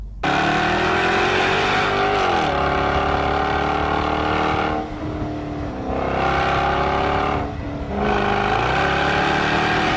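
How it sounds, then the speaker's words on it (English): The V8 in a 2013 Jaguar F-Type convertible roars loudly through repeated hard acceleration runs, with a rising engine note that dips briefly on gear changes before pulling again. "I then got in the V8 and I need this noise in my life"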